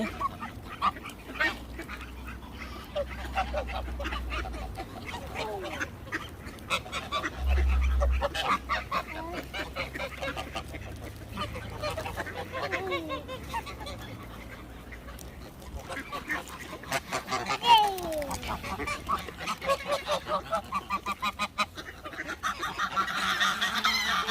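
A flock of ducks and geese outdoors in England, with repeated honks and quacks close and at a distance, some loud, while people talk intermittently throughout.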